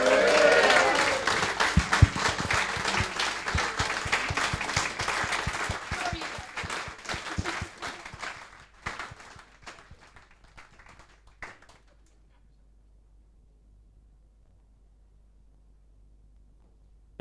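An audience at a QPR fans' forum applauds and cheers as manager Ian Holloway is introduced, a dense burst of clapping that thins out and fades to silence.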